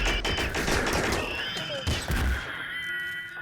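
Rapid bursts of gunfire from a RimWorld firefight crackle in a dense volley for about two seconds, then thin out into a quieter, ringing tail.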